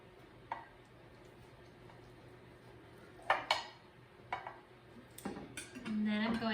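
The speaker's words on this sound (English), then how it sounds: "I'm going to cut the casserole into serving sizes." Knife tapping and scraping in a dish while cutting a keto breakfast casserole into servings, with scattered sharp clinks of metal on the dish, close and quiet, and a voice briefly at the end.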